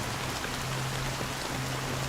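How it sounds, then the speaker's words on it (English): Steady rain pours down evenly and continuously, with a dense, hissing wash of drops that has no gaps, no distinct individual impacts and no voices. "How long has this rain been ongoing?"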